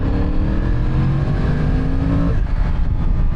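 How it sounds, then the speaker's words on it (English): A Yamaha R1 sport motorcycle pulls a third-gear roll-on from about 40 mph, its engine drone steady and loud with a rising tone that holds before easing slightly near the end, heard close with wind noise. "let's do a third gear roll on. 40 miles an hour."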